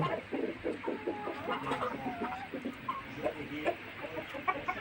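Tiger-breed parent hens on a Tangail farm cluck and murmur in a steady, overlapping chorus, with short calls rising from a continuous low flock noise at moderate distance.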